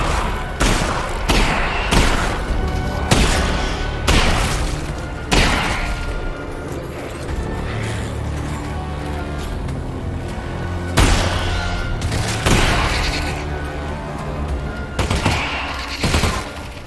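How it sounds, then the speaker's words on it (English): Repeated shotgun blasts in the VR video game Half-Life: Alyx, loud, booming shots fired at uneven intervals over a continuous din of combat noise. "Shotgun time."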